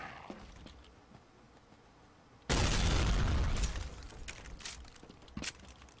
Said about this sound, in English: Fine, I'll take the sticky grenade.